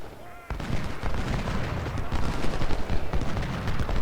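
Volley of musket gunfire in the Civil War strategy game Ultimate General: Civil War, a sudden burst followed by dense, overlapping crackling shots that roll on for several seconds, loud and close.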